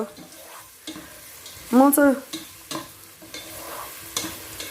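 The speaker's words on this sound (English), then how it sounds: "So I've added my onions. I'm just gonna be stirring it like so." Onions frying in a pot for a pangasius fish stew, stirred with scraping strokes over a soft sizzle, close, with a brief tonal squeak partway through.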